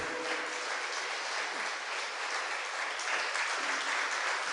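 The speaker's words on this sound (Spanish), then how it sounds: "¿Por qué no le regala al Señor, le ofrenda unas palmas al Señor?" A church congregation claps together in steady, dense applause, a continuous wash of hand claps that holds evenly for several seconds without talk over it.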